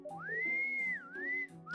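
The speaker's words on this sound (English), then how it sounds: "You don't just get to whistle your way out of this." A character in the Trails of Cold Steel video game whistles innocently, a clear tune of a few held, gliding notes with a dip in the middle, standing alone over quiet background music.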